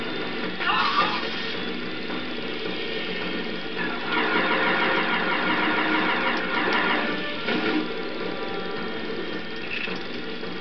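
Small car engine droning steadily while driving in the Jak 3 video game, a continuous mid-pitched hum that swells a little around the middle, with a few faint game effects over it.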